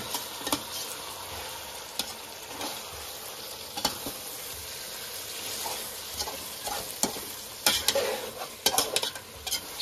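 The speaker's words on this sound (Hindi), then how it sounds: "इसको मिक्स करते रहना है ताकि नीचे से जल ना जाए।" Chicken biryani with biryani masala is stirred in a pot over a steady background sizzle, the spoon scraping and clinking against the metal in irregular close strokes.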